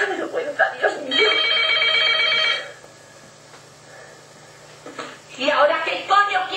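A telephone bell rings in a steady, loud burst for about two seconds amid a heated exchange, with excited talking before and after it.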